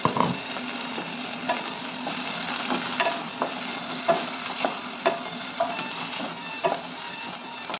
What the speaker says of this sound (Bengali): এখন দিচ্ছি পেঁয়াজ কুচি